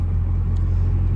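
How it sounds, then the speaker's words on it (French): A car rolls along the road, its steady low engine and road rumble droning evenly throughout with no voices. "La voiture elle roule bien."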